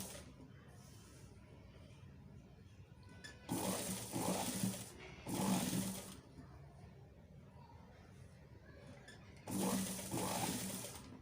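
Three rapid bursts of stitching from a sewing machine working on a kid girl's shirt, each lasting a second or two, separated by quieter pauses with faint handling of fabric.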